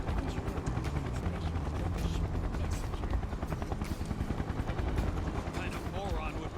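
In Final Fantasy VII Remake, helicopters whir with a dense, rapid rotor chop under gusting wind, loud and continuous, while voices talk over the din.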